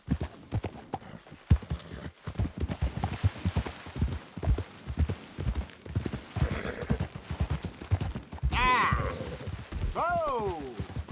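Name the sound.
horse hooves clip-clopping, video game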